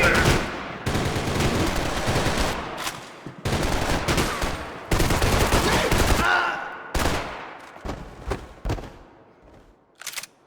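Loud bursts of rapid automatic gunfire in Max Payne 3, sustained volleys broken by short pauses, then thinning into scattered single shots toward the end.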